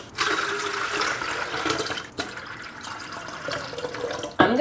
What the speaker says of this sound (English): Let's fill this first with 5 cups of water.